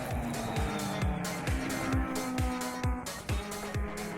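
Racing cars at the Zandvoort circuit during a 12-hour endurance race, with loud, continuous engine and tyre noise and a steady, repeating pulse of thumps running through the whole stretch.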